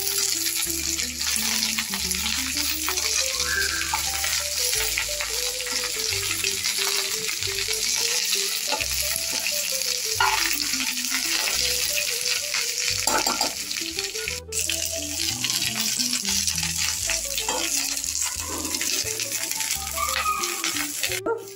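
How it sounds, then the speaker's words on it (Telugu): Curry leaves frying with mustard seeds, coriander seeds and fenugreek in a pan, a steady close sizzle and crackle with repeated scraping stir strokes and occasional rattles throughout. "ఈ కరివేపాకు కూడా మంచిగా వేయించుకుందాం."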